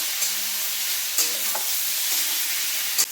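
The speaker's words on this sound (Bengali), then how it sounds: "এই স্টেজেই আদা জিরে বাটা আর কাঁচা লঙ্কাটা এর মধ্যে দিয়ে দেবো। ধিমে আঁচে মশলার সাথে কষে নেব।" Ginger-cumin paste and green chilli frying with spices in a pan on low heat for a Bengali hilsa and eggplant curry, a steady loud sizzle broken by a few scraping stirs.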